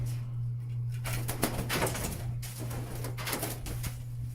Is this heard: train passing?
no